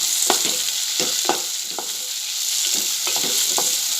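Bombil fish frying with methi (fenugreek) leaves in a pan over raised heat: a steady, bright sizzle broken by regular scraping spatula strokes as the mixture is stirred.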